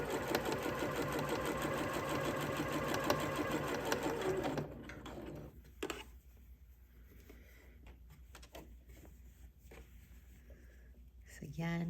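A sewing machine stitches around a garment facing seam, whirring steadily and fairly close for several seconds before stopping, followed by quieter handling clicks and taps of fabric; a voice talks over parts of it.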